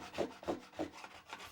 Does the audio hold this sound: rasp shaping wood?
yes